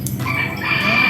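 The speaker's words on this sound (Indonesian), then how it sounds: "Kalau ini ayam hias." An ornamental chicken clucks and crows in a short, close burst of fowl calls over steady background noise, with no voices.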